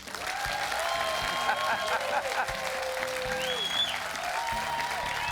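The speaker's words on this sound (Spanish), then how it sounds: "¡Dense un aplauso!" An outdoor television studio audience in Huntington Park, Los Angeles County, California, applauds steadily and loudly for several seconds, with music and voices running over the clapping.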